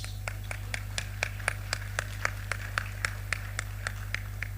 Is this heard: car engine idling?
no